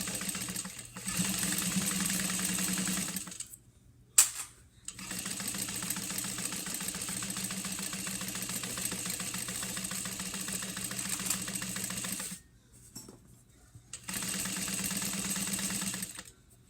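Sewing machine basting a quarter-inch seam around a bag, close rapid stitching hum in three long runs with brief silent pauses between them, no talk.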